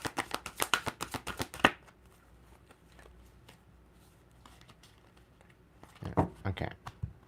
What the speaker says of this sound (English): I'll follow through with a shuffle just in case there's another one